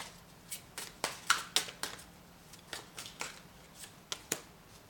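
A deck of tarot cards is shuffled by hand, producing a soft, close series of crisp flicks and snaps at an uneven rhythm in an otherwise quiet room.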